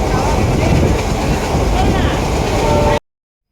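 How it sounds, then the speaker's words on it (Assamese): A steady, loud rumble of a moving train heard from inside a carriage between Rangiya and Balapara, with constant rattling wheel noise, ending abruptly. "এতিয়া ট্ৰেইনত গৈ আছোঁ ৰঙিয়া টু বালাপাৰা"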